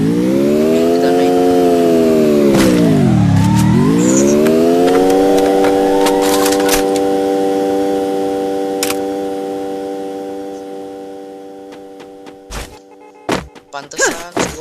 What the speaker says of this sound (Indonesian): Pantesan si White kencang banget naik mobil.